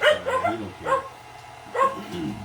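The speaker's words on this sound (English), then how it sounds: "He's barking because they're barking." Several dogs bark in short bursts, with a cluster of yips early on and another flurry about two seconds in, fairly close.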